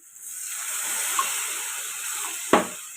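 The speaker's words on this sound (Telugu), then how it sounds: "వాటర్ అయితే పోసేస్తాను" Water poured into a pan of prawn and gongura curry makes a steady hissing, gushing sound with a short sharp splash near the end, close and fairly quiet.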